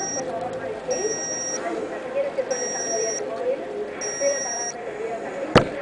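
Periodic electronic beeps from a Steorn LEMA low energy actuator, repeating in evenly spaced bursts over a steady background hum, with a sharp click near the end.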